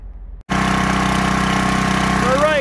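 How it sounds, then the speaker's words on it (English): A Coleman Powermate 5000-watt portable generator engine starts abruptly and runs at a loud, steady drone, close by. "We got the uh, generator running. It's very loud, so I hope you could hear me."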